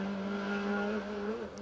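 A Ford Mark II Escort rally car runs through an asphalt rally stage, its engine a faint, distant, sustained tone that wavers slightly as it passes.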